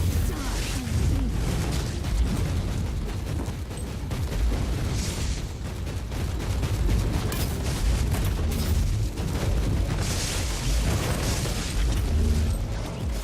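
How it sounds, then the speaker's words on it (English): Warhammer 40K Inquisitor video game combat, with a dense, continuous stream of explosions, bursts and pops from kills, alongside heavy mechanical clatter and booming low rumble, loud and relentless throughout. "there's an explosion on kill, so make it a bit more exciting"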